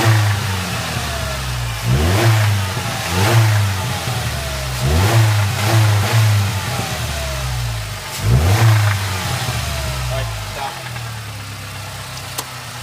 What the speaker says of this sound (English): Go ahead and give it a good rev until it starts knocking.